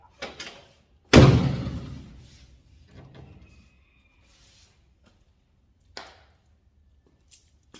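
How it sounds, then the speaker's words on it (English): A heavy 1954 GMC COE truck cab door slams shut once with a loud thud that rings out, followed by a few faint clicks and small knocks as it latches. "So that door now is fully latched."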